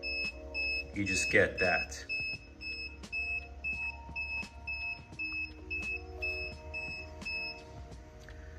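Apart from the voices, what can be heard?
electric bike motor controller short-circuit error beeps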